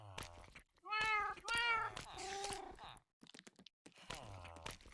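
Several cats meow in Minecraft, clear harmonic mews in quick succession near the start and again at the end, with brief gaps of silence between.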